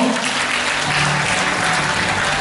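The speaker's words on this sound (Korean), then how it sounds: "다시 한번 박수를 부탁드리고요" Sustained applause from an audience at a women's week commemorative ceremony and speech contest in Korea, dense and steady throughout with no gaps, a faint voice barely present beneath it.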